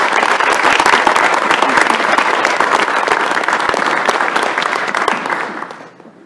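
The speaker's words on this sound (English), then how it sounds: "Let's give Alex a round of applause for her hard" A room full of people at a university board of regents meeting applauds steadily, dense clapping continuing for several seconds before tapering off at the end.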